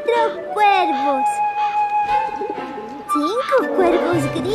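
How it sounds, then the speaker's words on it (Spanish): Pigeons cooing loudly and close, repeated rolling coos mixed with other bird calls, under a child-like voice speaking throughout. "Tres pichones y 4 cuervos."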